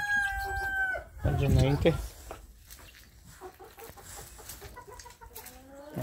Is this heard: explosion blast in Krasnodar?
no